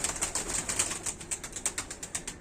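A trained pigeon flies and strikes its wings together in a rapid, regular series of sharp claps, moderately near and fairly faint, with no talk.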